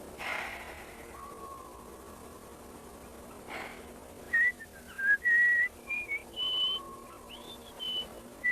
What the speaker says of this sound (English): Whistle Star Spangled Banner.